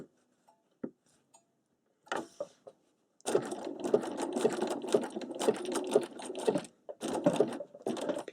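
Sewing machine stitching satin stitch tulips on fabric: a few isolated clicks and short bursts, then sustained rapid needle stitching with brief stops as the fabric is rotated, close and fairly quiet.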